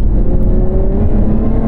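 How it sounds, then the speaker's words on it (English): A Lotus Evora GT's supercharged Toyota Camry-derived V6 revs loud and close, a steady deep engine drone with a rising whine held for under two seconds. "Who would have thought that a Camry V6 could sound this good? What a beautiful sounding V6."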